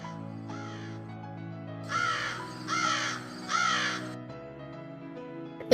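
A crow caws three times in a row, loud harsh calls spaced about a second apart, set against background music in a cartoon village scene.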